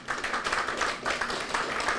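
An audience claps through a round of applause at a children's hospital gathering, a steady dense patter of hands that holds for the full two seconds with no speech over it.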